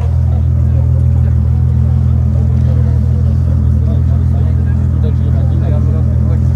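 A classic German car idles in a parking lot with a deep, steady, purring rumble that stays even and close throughout, while people talk over it.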